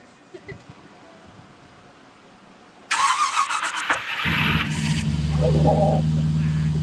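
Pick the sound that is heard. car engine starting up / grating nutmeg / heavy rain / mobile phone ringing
car engine starting up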